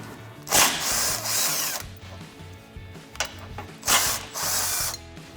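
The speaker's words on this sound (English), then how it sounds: "I'm going to take my 17 millimeter on my gun and remove these 2 bolts" An impact gun with a 17 mm socket rattles off tow hook bolts on a Toyota Tundra, two loud, close bursts of rapid hammering with ratcheting clatter between them.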